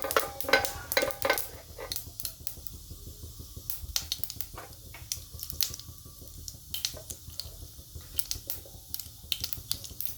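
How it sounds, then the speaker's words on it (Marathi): Cumin and mustard seeds crackle in hot oil, scattered sharp pops and snaps in irregular bursts, close but fairly quiet, with occasional utensil clinks and no talking. "आता जिरे मोहरी तडतडायली चांगली म्हणजे असे फुटल्याशिवाय आपल्याला पाणी नाही टाकायचं"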